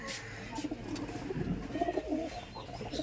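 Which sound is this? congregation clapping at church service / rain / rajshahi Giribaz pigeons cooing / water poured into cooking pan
rajshahi Giribaz pigeons cooing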